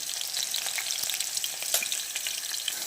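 Cumin seeds sizzling in hot oil, a steady bright crackle and hiss with small pops scattered through it, close and continuous, with no voices.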